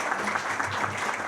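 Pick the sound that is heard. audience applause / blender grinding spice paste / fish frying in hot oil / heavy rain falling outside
audience applause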